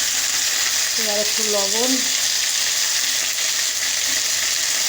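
Vegetable stalks frying in a pan with salt and turmeric give a steady, even sizzle throughout, with someone speaking briefly over it.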